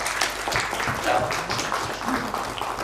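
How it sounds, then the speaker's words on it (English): An audience at a leadership seminar breaks into a round of applause, a steady dense patter of clapping that holds at moderate level for the whole stretch, with some background voices mixed in. "Give a big round of applause for that."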